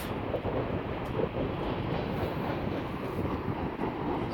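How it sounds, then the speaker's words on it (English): Continuous heavy rumble of a passing freight train near the Museum of the American Railroad in Frisco, with faint rhythmic clatter of wheels and some wind buffeting, loud and steady with no talking. "It's a freight train."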